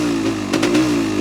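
A 1974 Yamaha DT400 Enduro motorcycle engine, warmed up and off the choke, idles close by with a steady, loud two-stroke burble and a brief rise in the middle.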